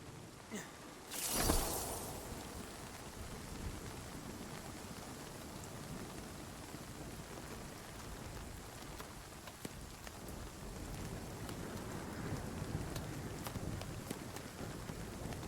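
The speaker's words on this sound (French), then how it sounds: "Ah, il grêle." Steady heavy hail patter in the video game Nightingale fills the whole stretch, with a sharp loud crash near the start and scattered small impacts throughout.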